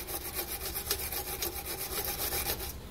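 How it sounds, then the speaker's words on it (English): A wire brush scrubs dirt and grime off the rear sway bar of a Subaru Justy in quick, repeated raspy strokes, faint and close, with no voices. "it's a good idea to take a wire brush and clean up any dirt or grime or anything that might be in here"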